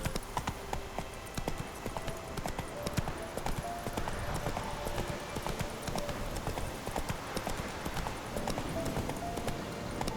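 Horse hooves clip-clop steadily in The Witcher 3, a continuous rhythmic trot heard up close over game ambience, with occasional faint voices.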